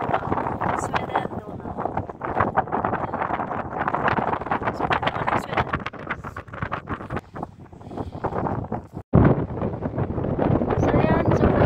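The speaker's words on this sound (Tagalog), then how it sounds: "so ayan, sobrang hangin" Strong, cold wind buffets the microphone outdoors at a house in Sweden, a loud continuous roar with gusty bursts and one brief drop, while a person talks over it.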